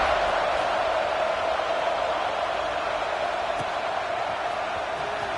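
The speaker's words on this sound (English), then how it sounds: "this crowd is buzzing after that last score" Steady, unbroken crowd murmur fills a stadium during a college football video game, NCAA Football 26, a dense broadband wash holding at an even level throughout with no distinct cheers or peaks.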